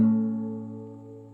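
A fingerstyle acoustic guitar excerpt of a song, a single plucked chord ringing out clearly and slowly fading on its own, close and fairly quiet.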